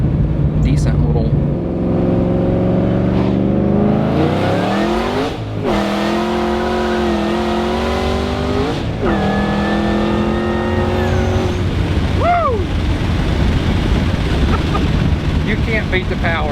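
A 900-horsepower Shelby GT500 revs hard through several gear shifts, its engine note climbing in pitch then dropping at each change, loud and close inside the car, with people talking and exclaiming over the roar.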